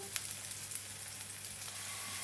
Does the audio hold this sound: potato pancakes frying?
yes